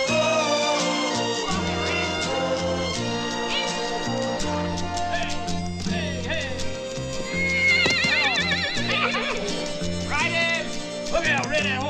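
A horse neighs amid a busy Western ranch action scene, its whinnies rising over a dense orchestral score, with shouting voices and hoofbeats mixed in throughout.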